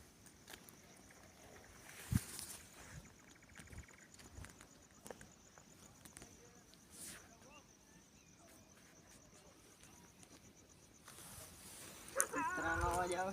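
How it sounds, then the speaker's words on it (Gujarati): Dogs bark in a village at night, a few sharp barks rising out of a quiet, hissy outdoor background, with a louder burst near the end. "મિત્રો કૂતરાનો અવાજ આવ્યો સાંભળજો."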